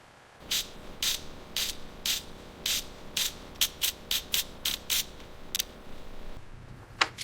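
A ratchet wrench loosens a bolt on an abandoned, rusted bulldozer. Its sharp metallic clicks come up close in quick spurts, about a dozen distinct bursts with short pauses between them, and no voices.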